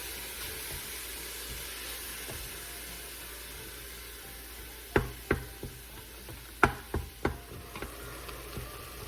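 Ground meat browning in an Instant Pot, a low steady sizzle with a run of sharp close knocks and scrapes from a utensil breaking it apart partway through.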